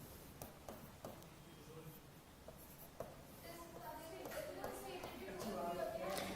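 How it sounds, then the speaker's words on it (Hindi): Hand writing scratches faintly on a surface in short strokes during an organic chemistry lesson, soft and close beneath a teacher's speech. "लो ये लिख देते हैं।"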